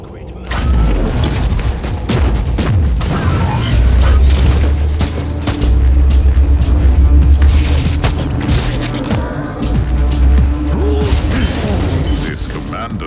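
Grenade blasts and heavy combat in Warhammer 40K: Inquisitor – Martyr, loud booming explosions and rattling gunfire layered over a dense battle din, with a character's voice speaking intermittently.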